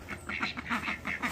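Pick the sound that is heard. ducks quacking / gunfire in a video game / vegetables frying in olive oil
ducks quacking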